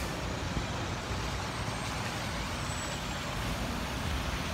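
A city bus with air brakes sits in street traffic, a loud, continuous broadband hiss and rumble that holds steady throughout without any talking.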